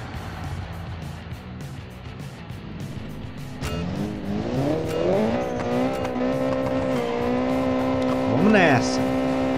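A race car with a 1.6 engine drives in the Automation/BeamNG video game, its engine note climbing steadily through revs with tire squeal and other cars nearby, loud and continuous throughout.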